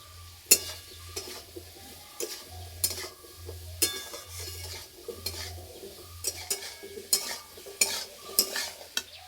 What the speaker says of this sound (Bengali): পেঁপে হালকা করে একটু ভেজে নেব।